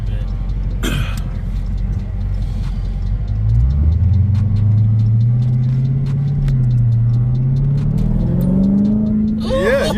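A Hellcat Charger fitted with a JLT cold air intake rumbles at idle and then blips its throttle into a rising, sustained rev, loud and close, with a brief throat-clearing-like burst at the start and end.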